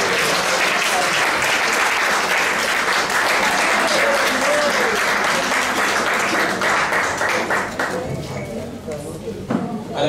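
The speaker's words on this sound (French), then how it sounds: "je voudrais qu'on applaudisse pour la sœur qui a fait un travail formidable" Sustained audience applause at a school programme presentation, many hands clapping densely for most of the stretch before thinning out near the end, with voices faintly mixed in.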